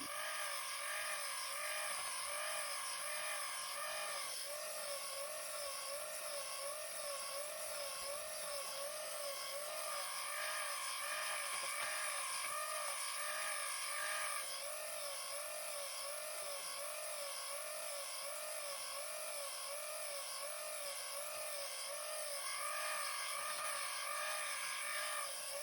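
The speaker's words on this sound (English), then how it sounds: "The gearbox works like this." A small Nezha gearbox motor from a Micro:bit kit running continuously, a steady high-pitched whine with a regular wavering pulse, close and alone for the whole stretch.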